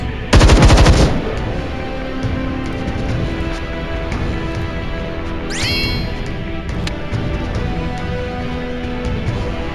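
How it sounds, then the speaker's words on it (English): Gunfire in the video game Templar Battle Force: a loud, rapid machine-gun burst right at the start, then a steady low battle ambience with a brief rising electronic sweep partway through. "let's fire on this guy first"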